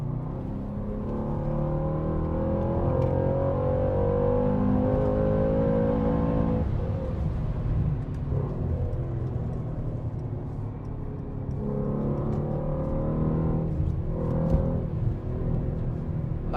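Mercedes C63s coupé engine growls through corners, a sustained loud rumble that rises and falls with throttle, easing briefly and building again.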